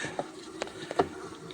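Honeybees buzz around a hive during a swarm transfer from Ruta frames to Ukrainian frames, a soft steady drone with a few faint taps and rustles, close but quiet.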